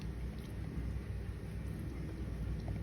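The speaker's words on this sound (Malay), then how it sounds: "Hujan-hujan di luar tu kawan." Steady heavy rain with rolling thunder outdoors during a rainstorm, a dense continuous wash of rumble and patter with no voices.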